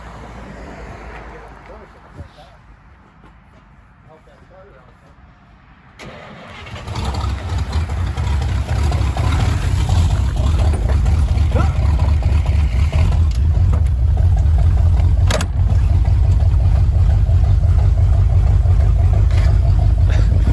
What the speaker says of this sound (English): We're actually gonna try and drive it. It's got no clutch, no brakes. My brother's gonna hop in it, try and start it in gear.